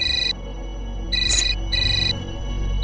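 A telephone rings in two short electronic bursts separated by a brief pause, loud and close, over a low background hum, with no talking.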